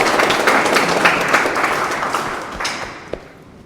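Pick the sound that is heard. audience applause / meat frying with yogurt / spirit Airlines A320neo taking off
audience applause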